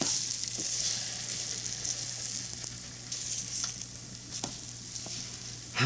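Pumpkin spice French toast cooking in brown butter on an IKich electric griddle gives a continuous close, even sizzle, with a few faint utensil clicks and scrapes and no speech.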